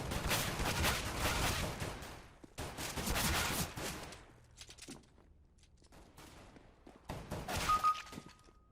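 Gunfire in the video game CS:GO comes in bursts of rapid automatic shots and sharp single cracks, separated by brief quiet gaps, loud and close with no talking.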